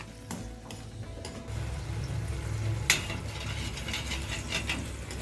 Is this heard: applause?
no